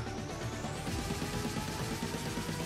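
An electric fan runs in a room with a steady, broadband whir and a low hum. The sound is constant and faint, fills the background, and no voices are heard.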